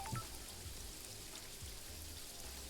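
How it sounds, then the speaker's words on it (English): Soft, steady video game rain patters in a quiet, even hiss with a few faint low tones underneath; no voices. "Now it's raining."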